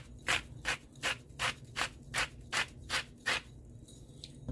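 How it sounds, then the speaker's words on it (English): Coarse salt ground from a grinder over shredded cabbage for homemade sauerkraut, a run of about ten evenly spaced gritty grinding rasps, close and fairly quiet, with no talking. "So I'm going to just grind it in there."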